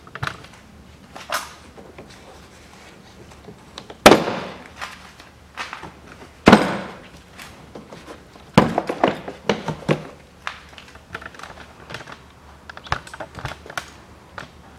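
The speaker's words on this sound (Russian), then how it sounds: "И отрываем снизу карту от двери" Door trim panel pried off the front door of a 2007 Toyota RAV4 2.0, sharp plastic clip pops and thunks amid scattered rustling and small clicks, close by.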